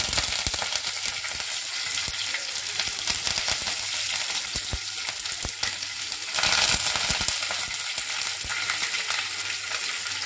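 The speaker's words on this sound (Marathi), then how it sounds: "राई चांगली चटकली" Mustard seeds crackling in hot oil with asafoetida, coriander and curry leaves in a pan for a cashew nut curry: a loud, dense, continuous sizzle thick with sharp pops, close by and with no talk.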